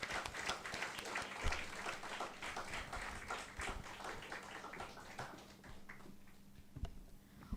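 An audience at an international management research conference applauds as a panel moderator comes on stage, steady dense clapping that carries on for several seconds with a few louder claps standing out.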